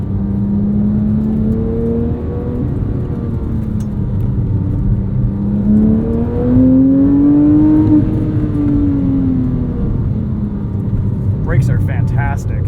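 A 997.1 Porsche 911 GT3 engine drones steadily up close on a canyon road, its pitch rising and falling as the car accelerates and eases off, with faint talk beneath.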